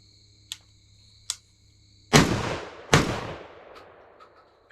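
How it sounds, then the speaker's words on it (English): A 12 gauge shotgun firing Royale buckshot on an outdoor range booms twice in quick succession, each loud close report trailing off, after two faint metallic clicks. "now we'll see if we can get this Royale buck to fire"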